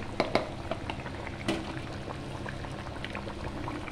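Thin fish curry with cauliflower and potato simmers in a pot, a steady low bubbling with occasional soft pops, close and quiet.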